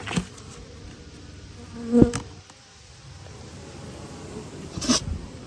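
A steady, faint honey bee buzz hums throughout from a hive, with a couple of brief louder thumps and rustles near the start and end.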